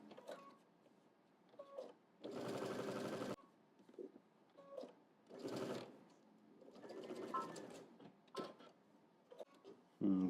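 Sewing machine running a basting stitch along the sides of a double-breasted jacket, several short whirring bursts of stitching separated by quiet pauses, fairly close.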